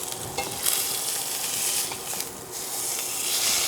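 A burger patty frying in oil sizzles and hisses continuously up close, with a dense, crackling wash that swells and eases, some scraping stirs mixed in, no speech.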